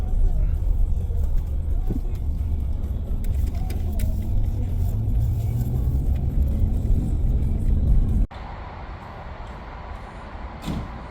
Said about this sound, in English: The old Chevy's got a little squat to her. But it's handling just fine